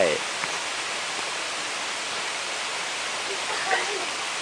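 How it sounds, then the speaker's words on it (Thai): Steady broadband rush of the first tier of Rainbow Waterfall (Nam Tok Sai Rung), a continuous close roar of falling water with brief faint voices near the start and end. "นี่เป็นน้ำตกชั้นแรกนะครับชั้นที่หนึ่ง"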